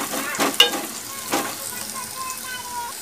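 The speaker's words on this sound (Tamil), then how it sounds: "பாருங்க நல்லா வணங்கிருச்சு வெங்காயம்" Onions sautéing in coconut oil, a soft close sizzle broken by a few sharp stirring scrapes and clicks early on, then settling into a quieter crackle.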